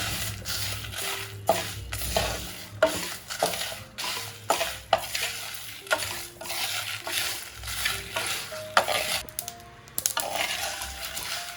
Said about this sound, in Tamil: கடுகு வரமல்லி மிளகாய்த்தூள் இதை எல்லாத்தையுமே வாசம் வர்ற அளவுக்கு வறுத்து எடுத்துக்கலாம்